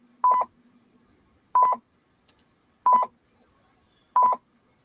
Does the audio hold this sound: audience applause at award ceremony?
no